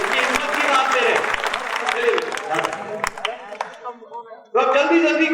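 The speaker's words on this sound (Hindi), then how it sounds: "तो सब के सब तालियां बजाओ इनके लिए" Live audience at an exam phobia motivational talk breaks into applause, a dense roar of clapping that tapers off briefly before a second loud burst of clapping resumes near the end.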